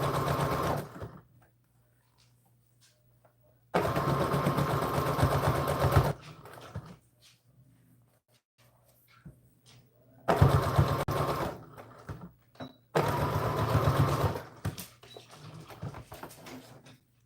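A sewing machine runs in four short bursts of rapid stitching, backwards and forwards to tie off a seam, each burst close and distinct with quiet gaps between.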